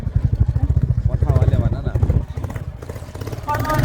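A new motorcycle's engine putters rhythmically nearby while being ridden, its low throb running under talking voices.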